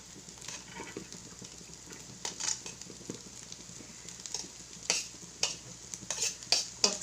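Cooked rice is stirred into chicken fried rice in a hot pan, with a soft continuous sizzle under irregular scraping and clinking strokes that grow louder and sharper toward the end.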